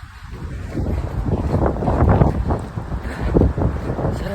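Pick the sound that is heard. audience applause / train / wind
wind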